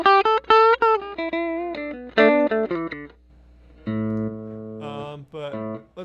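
Electric guitar played through a Two Notes Revolt with a modeled 6L6 power amp: a run of distinct picked notes and short chords, clean and upfront, with a brief pause midway before sustained, ringing tones resume.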